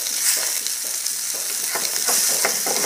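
Small fish sizzles loudly in hot oil with a dense, crackling hiss, with brief spatula touches as it is turned over.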